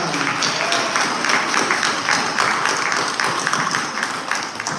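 Applause from an audience at a Dolton village trustees meeting honoring the Dolton Fire Department: steady crowd clapping that holds loud and even for a few seconds without fading.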